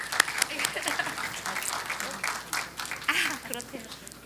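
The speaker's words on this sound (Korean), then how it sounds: "박수 주십시오." Audience applause after a reading at a Korean church conference session, dense clapping sustained for about four seconds with murmured voices mixed underneath.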